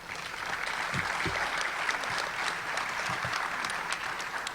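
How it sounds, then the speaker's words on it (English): Sustained audience applause at a 2014 Rogers Scholars graduation ceremony, with parents in the crowd, a dense steady patter of many hands clapping throughout at a moderate, even level. "Please give all of those folks a huge round of applause."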